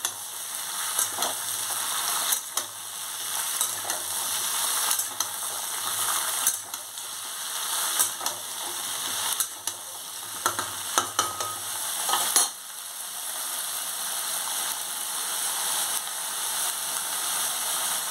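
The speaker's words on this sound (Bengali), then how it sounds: "এবার তেলের উপর এগুলো ভালো করে সবজিগুলো নাড়তে হবে।" Vegetables for a prawn curry are stirred in hot oil in a pan, with a continuous sizzle and repeated scraping, clattering strokes of the spoon, close and steady throughout with no speech.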